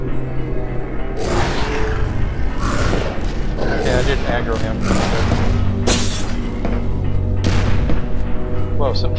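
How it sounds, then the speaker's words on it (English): A turret firing rockets in E.Y.E. Divine Cybermancy, loud booming blasts and thuds repeating irregularly over a constant mechanical rumble, with voices talking through the shots. "Shooting rockets."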